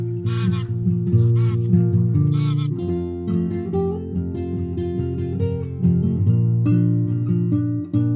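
A flock of migrating geese honks overhead in northern Germany near the river Elbe, with loud, repeated nasal honks from several birds overlapping close by and continuing throughout.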